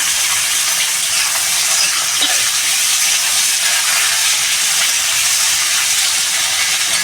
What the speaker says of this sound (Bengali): চিংড়ি মাছটা আর এই কলাটা একসঙ্গেই আমি কষাবো ভালো করে